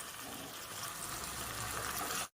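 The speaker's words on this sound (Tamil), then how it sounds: "மிக்ஸி ஜார் வாஷ் பண்ணி ஊற்றி வச்சுங்க" Rinse water from a mixie jar poured into a pan of cooking sundal kadalai kuzhambu, a steady soft splashing stream that cuts off abruptly at the end.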